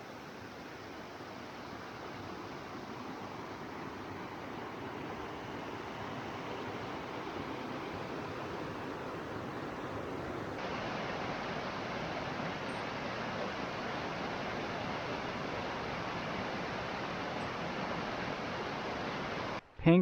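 Steady broadband rush of Matthews Creek flowing through wilderness in the Mountain Bridge Wilderness area of South Carolina, a continuous near wash of water lasting throughout, ending with a brief louder knock.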